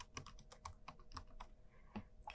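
Quick, light keystrokes on a computer keyboard entering a search term in a library database, about a dozen soft clicks in an uneven burst, faint and close, then a couple of final taps, with no speech.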